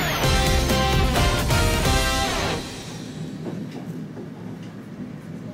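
The Gatwick airport monorail runs with a loud electric whirring whine and rolling rumble for a few seconds, then settles to a quieter, lower rumble as it moves off.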